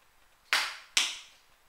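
A Nerf N-Strike Secret Strike AS-1 blaster fires darts, two sharp, hissing pops about half a second apart, each decaying quickly and heard clearly over a quiet room.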